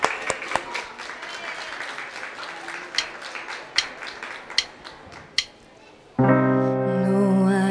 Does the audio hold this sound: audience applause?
yes